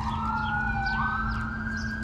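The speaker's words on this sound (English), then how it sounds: "Never fails every time I make a video out here. Ambulance. Police." Ambulance and police sirens wail past a riverside spot in spring, a steady rising-and-falling electronic tone over a constant low road rumble, loud and continuous with no talking.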